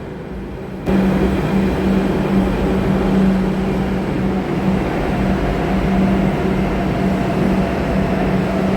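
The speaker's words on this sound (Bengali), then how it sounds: "আমি অলরেডি মেট্রো স্টেশনে পৌঁছে গেছি আর এই দেখো আমার ট্রেন চলে এসেছে" A metro train pulls into a station platform near Noapara, with a loud, steady low rumble and hum that swells in abruptly and then holds evenly, with no voices.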